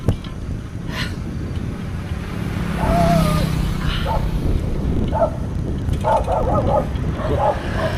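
Several dogs bark in short bursts, some near and some farther off, over a constant background of traffic and wind noise.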